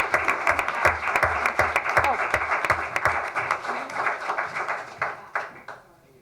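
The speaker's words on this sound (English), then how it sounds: "Mom and Dad, you can have a round of applause." Audience at a town council meeting gives a round of applause for a couple, a dense wash of clapping that fades away toward the end.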